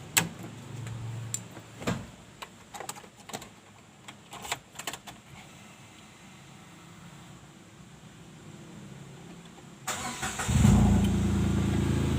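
A Datsun car engine starts after an oil change: a few clicks and clunks, then a quiet pause, then the engine catches and runs with a low rumble.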